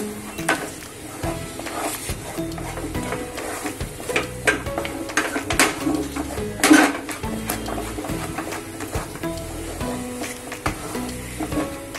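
A thick Khandeshi patodi mixture is stirred in a pot, a steady scraping and scraping-stir of a spoon against metal over a continuous soft sizzle, with occasional louder clanks, close and alone without talk.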